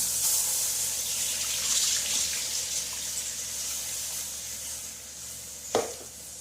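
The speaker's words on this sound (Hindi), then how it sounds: "तो अब हम इसके अंदर दूध डाल देंगे" One litre of raw milk pouring into a pot over sugar, a steady close liquid stream that gurgles and splashes, ending with a brief clank of the container.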